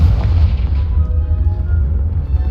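Loud, sustained low rumbling blast from the Confringo spell in Hogwarts Legacy, a deep booming explosion that rolls on and slowly fades over a couple of seconds, with no talk.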